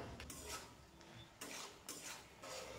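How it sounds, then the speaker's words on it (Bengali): Metal spatula scraping and stirring in a pan as turmeric, cumin powder, sugar and a little water are mixed into pointed gourd in mustard sauce, a few close bursts of clinking and scraping with a faint sizzle between. "খুন্তির সাহায্যে খুব ভালোভাবে মিশিয়ে নিলাম।"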